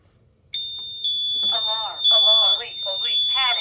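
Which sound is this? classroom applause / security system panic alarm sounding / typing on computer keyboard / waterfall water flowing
security system panic alarm sounding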